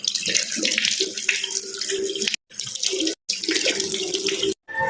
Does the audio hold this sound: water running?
yes